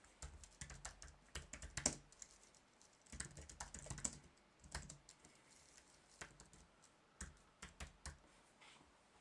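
Java code being typed on a computer keyboard, quiet close clicks in irregular bursts with short pauses between them.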